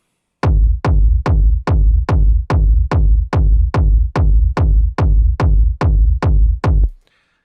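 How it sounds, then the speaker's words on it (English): A solid, crunchy techno kick drum sample for hardgroove techno, playing fourteen evenly spaced punchy thumps with a short rumbling tail on each, loud and dry with nothing else. "First, we have our kick that sounds like this."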